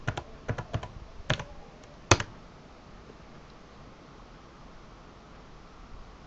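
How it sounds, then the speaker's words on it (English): Quiet keystrokes on a computer keyboard as a password is typed, a short burst of separate clicks over about two seconds followed by steady low background hiss. "type your password."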